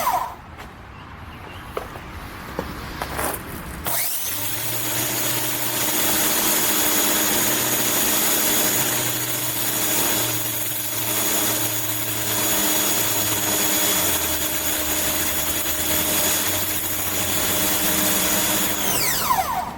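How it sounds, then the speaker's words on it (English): Powerplay SPY2030 electric pressure washer with a turbo nozzle starting up after a few clicks and handling noises, then a loud, steady motor whine and hissing spray running close for over fifteen seconds with slight pitch shifts. "I'll just plug the pressure washer back in."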